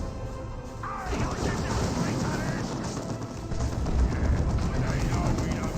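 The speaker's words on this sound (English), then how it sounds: "a great artillery strike right there" An artillery strike lands in the real-time strategy game Dawn of War 2 as a dense run of rumbling blasts and crashes that sits under excited spoken commentary.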